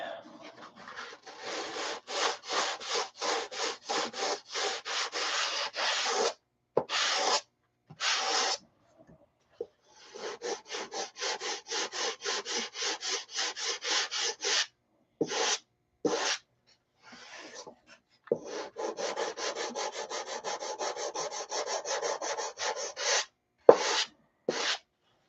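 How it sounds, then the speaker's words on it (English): A part is sanded by hand in long runs of quick, rhythmic scratchy strokes. The bursts break off with brief pauses and occasional single strokes between runs. "let's sand that bugger off."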